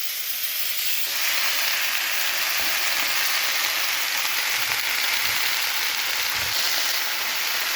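Fried lafa greens sizzle as they come off the heat, a steady close hiss that swells after the first second and holds evenly with no voices.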